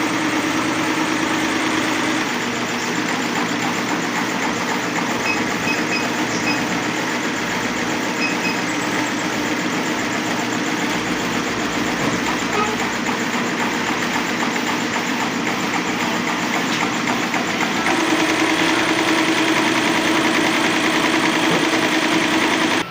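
A CBD four-head embroidery machine runs steadily, a dense continuous mechanical hum and rapid stitching chatter that holds at an even level throughout, with a slight shift in tone near the end and no voices.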